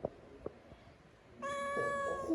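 Black and white cat meowing close by, a drawn-out, rising meow after a few faint taps and rustles in a quiet room.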